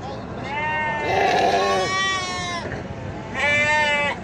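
Sheep bleat repeatedly at an open-air sheep market in Fuzuli, several long wavering calls close by, with traders talking among the animals.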